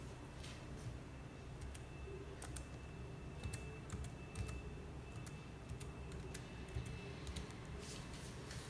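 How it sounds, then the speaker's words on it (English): Keystrokes on a Portronics foldable keyboard paired with an iPad, a steady run of quiet, sharp clicks over a low background hum, with no talking. "Now I'm going to type something."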